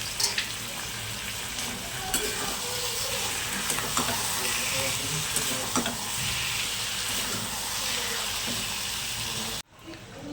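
Boiled Bombay duck fish sizzles steadily in a hot frying pan, a loud continuous crackle with occasional stirring clatter, cutting off abruptly near the end.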